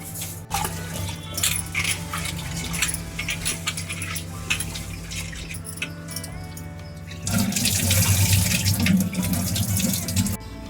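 Water pours from a tap over rice in a kitchen sink, a continuous splashing stream that grows louder and fuller partway through.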